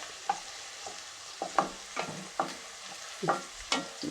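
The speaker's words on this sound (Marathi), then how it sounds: "कांदा परतून घेते तेलामध्ये चांगला" Chopped onion sautéed in hot oil on a medium flame while a spoon stirs it: a steady low sizzle broken by about eight sharp scraping strokes in an uneven rhythm, close and with no voices.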